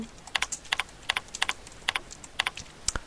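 A folder name is typed on a computer keyboard in short bursts of crisp, close key clicks, roughly five quick groups spaced evenly with brief pauses between, quiet and with no talk.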